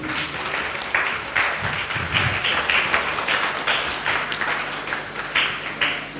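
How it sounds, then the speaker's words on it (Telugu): An audience at a Lent day church gathering clapping together in a dense, continuous burst of applause lasting several seconds, loud and fairly close, with no talking over it. "అందరు చప్పట్లు కొట్టండి ప్లీజ్."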